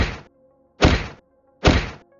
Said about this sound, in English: It was your father, booming his legs on the ground to wake up the mob.